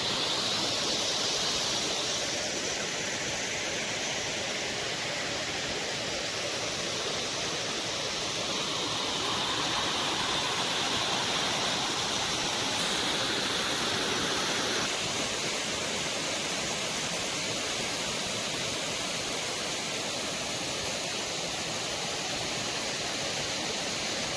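A flowing river in a calm setting, a steady broad rushing hiss of moving water that stays constant throughout with no voices.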